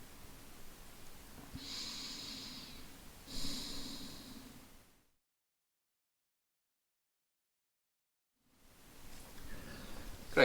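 Slow, deep breaths during a yoga forward bend from child's pose: two soft, airy breath sounds at close range, each lasting about a second, followed by several seconds of silence and then faint renewed breathing.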